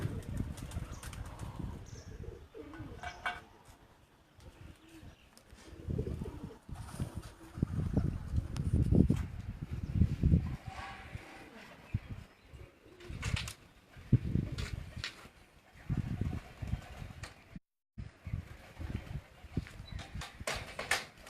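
Pigeons coo near a cage of flying pigeons, with soft repeated low calls and occasional wing flapping at close range over a quiet background.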